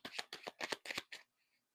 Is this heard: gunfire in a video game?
no